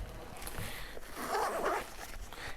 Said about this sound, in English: these are double pull zippers in both directions